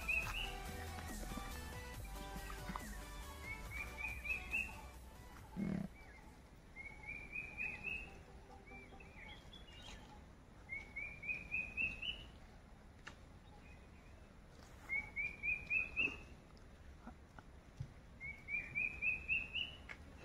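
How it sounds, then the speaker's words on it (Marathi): Birds singing in the Konkan countryside: six short, rising chirped calls repeat at steady intervals of about three seconds, moderately distant and fairly faint over a quiet natural background. "तर मंडळी तुम्ही हे पक्ष्याचा आवाज ऐकू शकतात."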